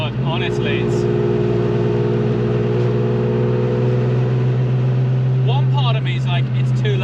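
Ferrari F50 with straight-pipe V12 engine, a loud steady engine drone with rising and falling revs under an excited voice talking over it.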